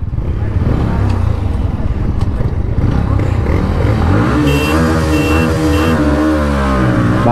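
Bajaj Pulsar NS 125 and TVS Raider 125 motorcycles racing side by side, engines revving loudly and continuously with rising pitch as they accelerate, close up, with rushing wind and excited voices shouting over the engine noise.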